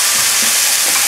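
Thai basil chicken frying in a pan as it is stirred, giving a loud, dense, close sizzle with faint scraping underneath, very short.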